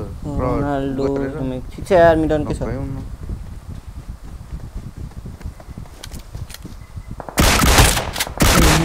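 PUBG Mobile gunfire crackles in short bursts, first under a voice speaking, then a loud volley of rapid shots near the end.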